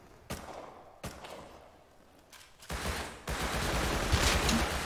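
Gunfire in the survival game Rust near a cave base: a few isolated sharp shots, then a denser, louder burst of firing that continues to the end over a rushing background.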